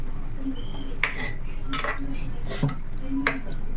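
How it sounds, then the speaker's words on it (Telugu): A spoon stirs dry fish curry with eggs in a clay pot, making several light clinks and scrapes at irregular intervals over a steady low background hiss, close by. "ఒకసారి అలా కలిపేసుకుందాం"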